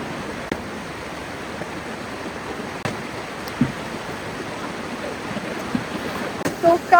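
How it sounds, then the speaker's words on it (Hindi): A mountain stream rushes steadily near Jibhi in the Himalayan hills, a continuous broadband wash of flowing water with a few faint knocks and brief sounds near the end. "ये पानी की आवाज इतना ज्यादा तेज दे रही है ना"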